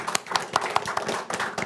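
Scattered clapping from a small audience at a guitar showcase in a music store, a handful of distinct hand claps in uneven rhythm, close and moderately loud, with no one speaking.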